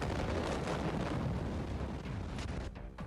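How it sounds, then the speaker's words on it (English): Massive explosion aboard the Orient Queen cruise ship in port, caught on a mobile phone: a rumbling, distorted roar of blast and wind that fills the clip and fades slightly toward the end. "the explosion was captured on video by dozens of mobile phones"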